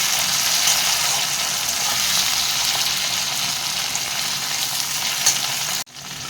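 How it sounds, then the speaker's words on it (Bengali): Tomatoes fry loudly in hot oil with a constant, even sizzle that cuts off abruptly just before the end, while making sweet corn masala. "টমেটোটা দিয়ে দেবো টমেটোটা দিয়ে কিছুক্ষণ ভেজে নেবো"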